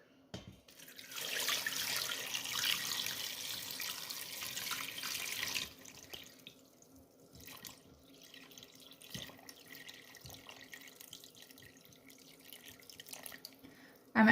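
Water runs steadily from a tap into a pot of vegetables and tomatoes for several seconds, then stops, leaving quieter clinks and shuffling.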